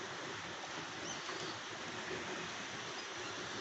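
Rain falls steadily over a backyard, a constant broad hiss of drops at even, moderate loudness, with no voices and nothing breaking through the wash.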